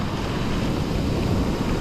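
Large ocean waves breaking on a beach, giving a steady, heavy roar of surf with wind rumbling across the microphone the whole time.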